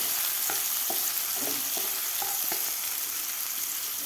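Finely chopped onions sauté in a pan for broccoli bhaji, a constant near sizzle broken by several light scraping stirs of a spoon against the pan.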